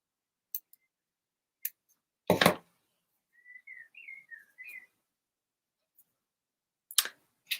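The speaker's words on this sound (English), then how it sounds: "I'm just going to use these scissors just to snip that away." Scissors snipping dried glue off a felt lavender sprig give a few sharp, close clicks and cuts, separated by quiet gaps and one louder rustling burst, alongside a short run of soft whistled notes.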